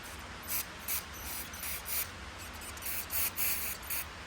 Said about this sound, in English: now I'm gonna put some silicone spray in it, some silicone lubricant